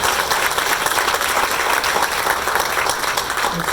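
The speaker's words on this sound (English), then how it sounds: "I want us all to give Mayor Muriel Bowser a round of applause" Loud, steady round of applause for Mayor Muriel Bowser at an outdoor housing groundbreaking on Bryan Street, many hands clapping close and continuous throughout.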